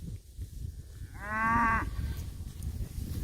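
A cow on a ranch where a calf was recently born gives a single clear moo of about half a second, moderately close, over low outdoor background rumble.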